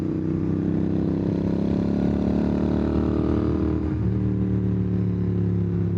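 Royal Enfield GT650 motorcycle fitted with a Nuke Little Boy Pop slip-on exhaust, a loud continuous engine rumble on the move, pitch wavering slightly and dipping briefly near the end, with no talk.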